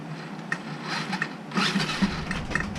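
A Tamiya Clodbuster RC truck's electric motor whirs as it spins the back wheel, a close, continuous mechanical drone that grows stronger partway through, with a few small clicks.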